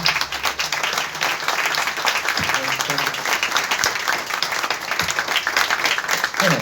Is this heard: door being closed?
no